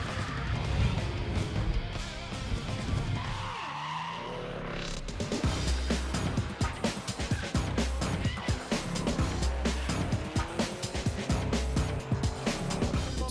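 Drift cars at the French Drift Championship at Chamrousse running a one-on-one battle in fog, with engines roaring and revving hard, tires squealing, and a short lull before the cars rush close past.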